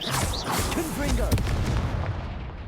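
Confringo fire spell explosions in Hogwarts Legacy, a booming blast with crackling debris, loud and dense, alongside battle effects and a voice shouting.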